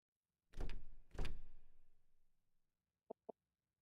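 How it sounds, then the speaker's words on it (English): In Detective Instinct, a stuck door is yanked with two heavy rattling thuds that ring out and fade, followed by two small sharp knocks. "Emma, I can't get this door open. It won't budge."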